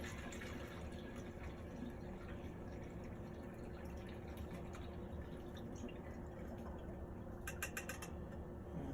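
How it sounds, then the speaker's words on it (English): Homemade orange blossom mead pours through a strainer in a continuous close, even rush of liquid that stays steady throughout, with faint drips near the end. "let's try to pour this without spilling. I'm straining it"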